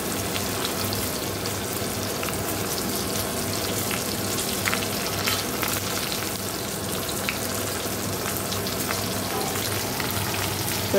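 Sliced bitter gourd fries in a pan with a dense, constant sizzle and crackle, heard up close and alone, with faint stirring scrapes now and then.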